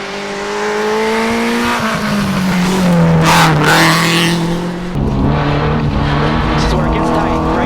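A rally car at the 2019 ARA Idaho Rally revs hard, brakes and accelerates again through tight turns on a gravel stage, with a loud engine note rising and falling and tire noise, heard from inside the car.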